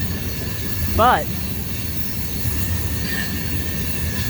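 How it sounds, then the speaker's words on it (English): CSX K676 freight train passing a road crossing at night, a steady low rumble of rolling rail cars throughout with a brief squealing wheel sound near the start and a faint word spoken. "When I got there, the train was passing."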